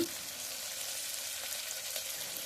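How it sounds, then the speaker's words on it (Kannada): Onions and avarekalu field beans frying in a pan, giving a steady, even hiss of sizzling oil throughout, close and without talk. "ಈರುಳ್ಳಿ ಎಲ್ಲ ಚೆನ್ನಾಗಿ ಫ್ರೈ ಆಗಲಿ"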